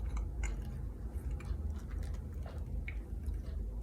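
Close-up mouth sounds of someone chewing a hotdog with egg and sausage: soft, irregular wet smacks and small clicks over a low background hum.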